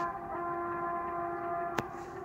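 A steady, fairly close horn blast from a Tarnów railbus at a level crossing near Dęba Rozalin, holding one sustained tone for the full length with a brief click near the end.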